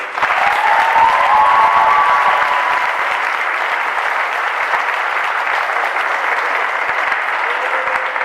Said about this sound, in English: graduates, a round of applause for the parents and guardians